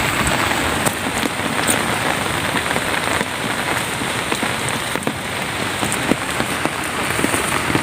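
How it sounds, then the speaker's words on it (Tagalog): Heavy rain pours steadily onto surfaces close by, a dense, continuous hiss with scattered sharper drops and no voices. "Sa lakas ng ulan."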